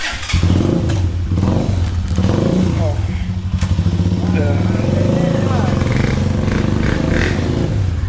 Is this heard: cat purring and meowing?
no